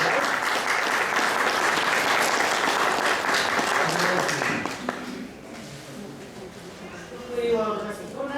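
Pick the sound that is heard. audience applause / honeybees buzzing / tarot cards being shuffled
audience applause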